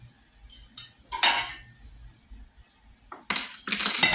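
Lasagna being cut into squares and served onto dishes in a home kitchen, with a few clinks of utensils on plates and ceramic scraping, spaced bursts that grow busier and louder toward the end, no talking.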